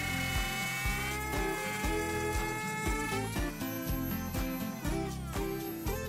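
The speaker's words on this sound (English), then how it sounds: "lower it over the running bit and then route through the end" A router with a running bit cuts stopped grooves into a wood workpiece, a steady loud high-pitched motor whine with rough cutting tones that shift slightly as the wood is fed.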